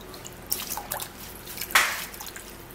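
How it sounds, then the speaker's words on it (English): Water runs and drips as a lemon and parsley are rinsed, with light splashes and a brighter gush near the end, fairly close and faint. "Also washing the lemon and rinsing out the dust and sand from the parsley."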